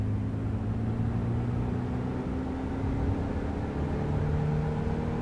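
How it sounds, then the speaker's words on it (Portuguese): A Volkswagen Gol G2 engine in Euro Truck Simulator 2 drones steadily as it accelerates, a low continuous hum that rises gently in pitch with no voices over it. "Vamos acelerar pra ver se acelera."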